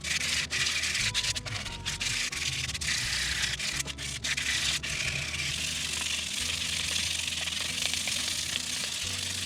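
Sandpaper at 150 grit rubs against a spinning ambrosia maple burl bowl on a wood lathe, a continuous harsh hiss over the low motor drone, steady and close.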